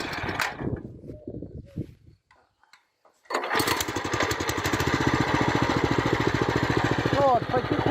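Walk-behind tractor fitted with a hiller, running in first gear: after a brief quiet gap the engine kicks in with a loud, steady chugging putter that continues to the end; people talk faintly before the engine starts.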